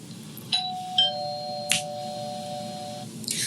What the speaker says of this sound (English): this ding dong means the beginning